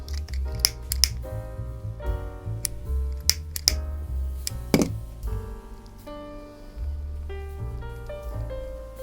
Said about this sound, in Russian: и срезаю вот этот вот ненужный нам уголочек